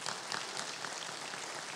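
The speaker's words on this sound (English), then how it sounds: "Can you give Jesus a hand clap of praise today?" A church congregation at a Sunday morning service claps hands in praise, a dense, even patter of many hands at moderate distance with no break.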